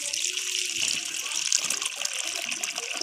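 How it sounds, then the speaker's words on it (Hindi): Water poured into a metal cooking pot set out for pigeons, a steady gushing splash that runs continuously and fairly loud from start to finish. "ये डाल दिया भाई पानी।"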